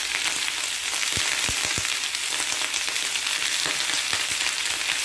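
Potato and spring onion stir-fry in hot oil for a spring onion and egg dish, giving a steady close sizzle with a few soft clicks of stirring, no voices.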